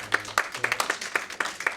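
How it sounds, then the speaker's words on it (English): Scattered hand claps from a small audience after a panel talk on Israeli–Palestinian relations, a sparse, uneven patter of individual claps lasting a couple of seconds, fairly faint and distant. "Let us give another round of applause for Professor for"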